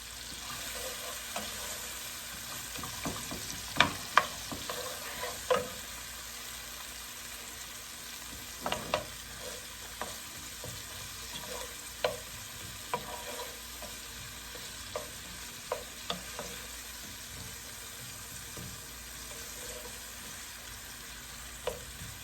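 Onions and sweet pepper frying in a pan for homemade noodles, giving a steady low sizzle with scattered scraping stirs and light utensil clicks, no voices.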